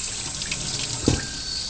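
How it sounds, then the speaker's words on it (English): Cold water runs steadily from a kitchen tap into a sink during home butter making, a continuous close hiss with a brief splash near the middle. "Turn on cold water."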